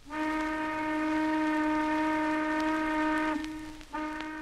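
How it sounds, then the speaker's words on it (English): A long, steady sawmill steam whistle blast with a rich harmonic tone holds for several seconds, briefly breaks, then sounds again, loud and unaccompanied. "there was sounded a long blast on the plant whistle."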